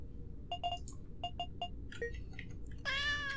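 Cats meowing in the video game Yuppie Psycho: a quick series of short, clipped game mews, then a longer drawn-out meow with small sound effects in between, over a quiet background.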